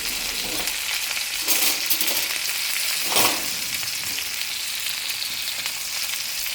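A well-done steak sizzles in a hot pan with melting butter, a steady close crackle with a few louder bursts of spitting fat and no voices.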